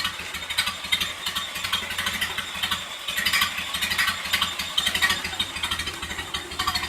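A 1928 Ford Model A roadster with a rumble seat idles steadily and close by, a continuous low chugging rumble with even pulses and no voices over it.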